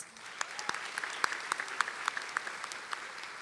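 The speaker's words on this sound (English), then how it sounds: "Please honor our stage guests with a round of applause." Audience applause for stage guests at a high school graduation ceremony, a steady wash of many hands clapping with sharp individual claps popping out, moderately distant and continuous throughout.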